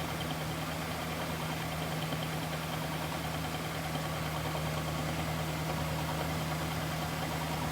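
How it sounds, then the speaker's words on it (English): A Rolls-Royce Silver Shadow idles with its pump running, a steady low engine hum with mild vibration holding constant throughout, no talk over it. "Sounds good. You hear that pump running."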